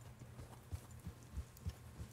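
Horse hooves clopping in the video game Red Dead Redemption 2, a soft, fairly quiet series of low thuds at an uneven gallop-like rhythm with no talking over them.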